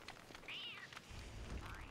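Catcoon creature in the game Don't Starve Together giving a short, faint meow over quiet game background.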